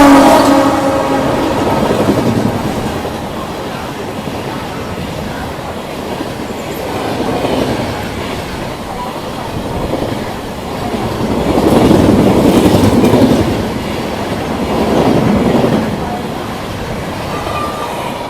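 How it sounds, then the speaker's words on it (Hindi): The 12379 Jallianwala Bagh Express, running from Sealdah to Amritsar, rolls past loudly with a sustained rumble, rhythmic clickety-clack of wheels over rail joints and occasional squeal, swelling and easing as the coaches go by on the Kanpur–Delhi section. "भाई ये आ रही है 12379 जलियांवाला बाग एक्सप्रेस"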